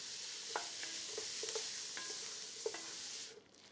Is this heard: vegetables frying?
yes